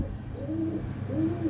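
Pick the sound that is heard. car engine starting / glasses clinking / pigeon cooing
pigeon cooing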